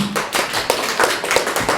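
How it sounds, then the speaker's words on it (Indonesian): A few people clap hands at the close of a teaching-practice cooking demonstration, a quick run of sharp, fairly close claps in an uneven rhythm with no talking. "Tepuk tangan."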